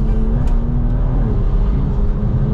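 A 580 hp big-turbo BMW M240i during a night drive, heard from inside, with a steady loud engine drone and road roar throughout, holding a constant tone with no clear gear change.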